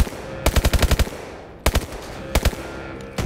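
Automatic gunfire in Call of Duty: Advanced Warfare, a rapid burst of close, loud shots followed by two shorter bursts after brief pauses, with no talking.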